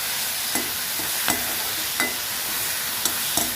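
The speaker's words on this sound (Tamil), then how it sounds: "இது மாதிரி நல்லா வதக்கி விட்டுருங்க." Thuthuvalai leaves with a little tamarind being sautéed in a pan for chutney, an even frying hiss with periodic stirring scrapes about every half second to second, close and steady with no voices.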